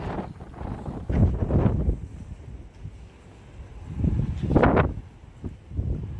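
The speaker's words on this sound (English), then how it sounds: "You'll have to excuse the wind." Gusts of wind buffet the microphone in low, rumbling bursts that swell and fade, with no talking.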